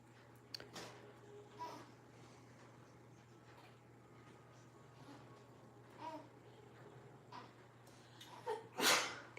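A sharp sneeze bursts out near the end, after several quieter breathy sounds over a steady low hum.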